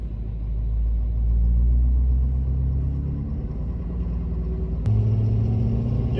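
A 2016 Ford F-250 pickup fitted with a steering stabilizer pulls away, its engine rumbling low and steady up close, with a brief click and a shift in tone near the end.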